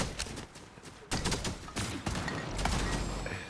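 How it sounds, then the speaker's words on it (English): Gunfire bursts from a shooter video game, with the player taking hits from several directions; dense, loud crackling volleys come in clustered bursts with a brief lull, all close and continuous. "I'm getting shot from everywhere."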